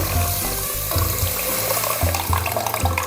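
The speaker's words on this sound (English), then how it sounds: "Add a quart of water to it." A quart of water gushes steadily into a pot of gandules (pigeon peas) while cooking arroz con gandules, a loud continuous splashing pour.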